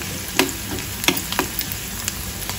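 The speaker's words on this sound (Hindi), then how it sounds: "ये हो गई है लहसुन और प्याज, थोड़ा और हल्का और भून लेती हूँ" Garlic and onion sizzling in a pan with a steady crackling fry, broken by a few sharp clicks of stirring, close and moderately loud, no voices.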